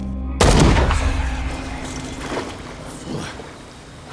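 A single sharp pistol shot sounds in the Call of Cthulhu video game, a loud close crack followed by a decaying rumble and fainter impacts under soft game ambience.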